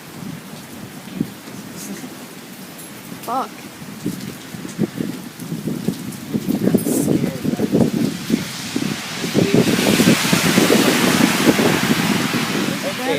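A thunderstorm with heavy rain and wind, with bursts of thunder rumbling close, irregular gusts and steady rain growing louder toward the end, and a person briefly talking.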